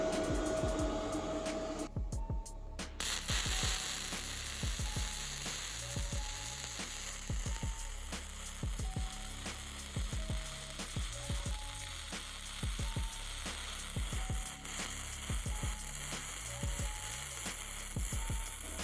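A Bestarc MIG 145 welder running at full power, 135 amps, laying a pass on stacked 3/16-inch steel plate, a loud close continuous crackling sizzle with regular rhythmic pulses throughout, no talk.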